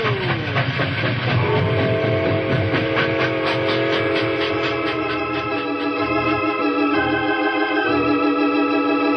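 A staged locomotive sound effect from a radio drama: a loud, sustained steam whistle with sliding pitch over steady rumbling chugging, the whistle later easing as the rhythmic rumble continues.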